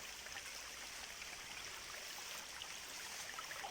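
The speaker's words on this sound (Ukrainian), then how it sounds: "Потічок з лісу тече чистий." A clear forest stream trickling while out mushroom picking, a faint, steady broadband babble of running water that continues evenly throughout with no voices.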